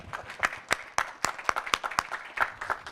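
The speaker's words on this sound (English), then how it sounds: "as for a Shakespearean play, applause." Scattered applause from a small audience at a venture capital panel on health tech: a handful of distinct, sharp claps at an uneven rhythm, fairly close.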